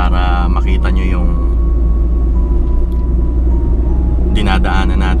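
A Honda Civic EG on a lockdown drive gives a loud, constant low engine and road rumble from inside the cabin. Someone talks briefly over it at the start and again near the end.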